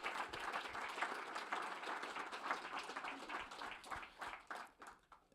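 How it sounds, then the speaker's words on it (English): A room full of people gives a round of applause for the speakers at a blockchain event, steady clapping that is moderately distant and fairly quiet, thinning out toward the end. "I just wanted to give a big round of applause to all of our speakers"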